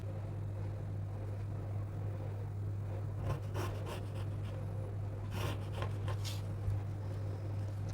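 A pencil draws lines connecting marked points on a dress neckline pattern, giving faint, short scratchy strokes over a steady low background hum.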